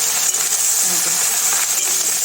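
Okra fries in hot oil with turmeric and salt, a close, continuous crackling sizzle with sharp spitting pops.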